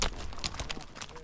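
Horses' hooves clip-clop steadily as riders head out to round up a herd from a large winter pasture at Lyman Lake, a brisk close patter under a voice.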